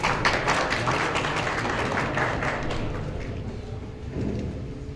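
Audience applause at a seminar for a turban-tying ceremony, a dense steady patter of clapping that slowly fades over a few seconds.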